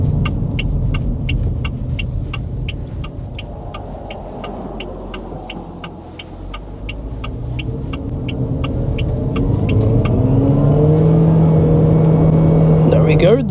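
A Haval Jolion Hybrid SUV accelerates from a rolling start with a steady, rising motor and road rumble, heard from inside the cabin, loudest toward the end.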